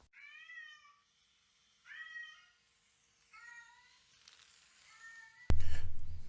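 A cat meows on a house roof at night, four or five drawn-out calls separated by pauses, fairly clear against a quiet background, then a loud burst of broadband noise cuts in at the end.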